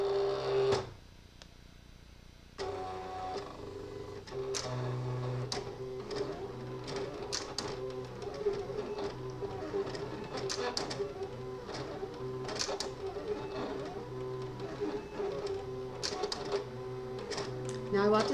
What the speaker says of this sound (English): this is much louder than a Cricut, and it's because this machine is much older